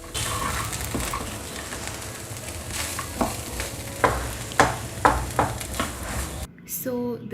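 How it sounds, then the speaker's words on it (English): Soya balls for Manchurian being stirred in a frying pan, with sizzling under a series of close scraping and tossing strokes. The frying stops abruptly near the end, followed by a brief quieter moment. "add soya balls. Give it a good mix."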